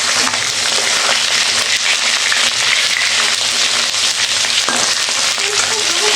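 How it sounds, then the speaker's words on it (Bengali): Fish frying in hot oil in a home kitchen, a loud, close, steady crackling sizzle with scattered pops and occasional utensil clinks, no voices. "এদিকে মাছ ভাজা হচ্ছে বন্ধুরা"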